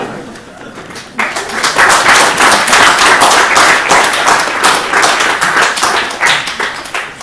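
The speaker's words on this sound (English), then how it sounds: "your audience will applaud" An audience at a computer science workshop breaks into loud applause after a keynote talk. A quiet moment is followed by the sudden start of many hands clapping, which stays strong for about six seconds and fades slightly toward the end.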